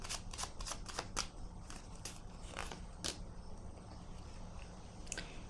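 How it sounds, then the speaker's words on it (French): A card is drawn from a tarot deck, giving a series of quick, soft crisp snaps and rustles close by in a quiet room. "j'ai besoin de piger une carte ici"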